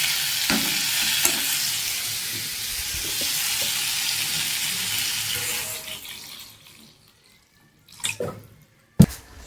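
Water is poured into a sautéed egg curry, which sizzles with a loud, continuous hiss for several seconds before fading to quiet, followed by a couple of short clattering knocks near the end.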